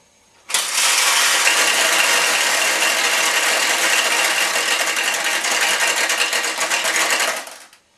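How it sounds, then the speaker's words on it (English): Pachinko balls released from a Nishijin machine tray rattle down a track into a bucket in a dense, steady metallic clatter lasting several seconds, starting and stopping abruptly. "when we do, all the balls are going to roll down this track and into this bucket"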